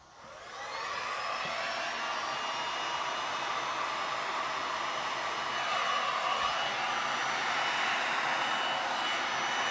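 Handheld blower pushing poured resin across small canvas magnet hearts, a steady airy whoosh that starts abruptly and holds evenly at moderate volume, with no voices.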